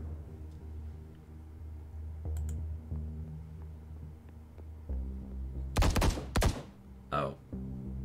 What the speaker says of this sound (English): Did I just hear gunshots? Yes, and they were close.